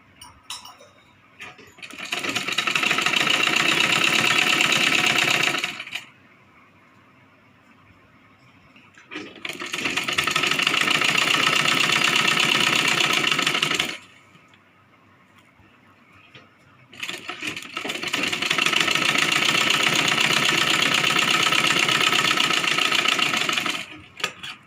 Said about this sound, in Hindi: और बिल्कुल हम उसी तरह पहले वाली सिलाई के बिल्कुल पास में सिलाई कर लेंगे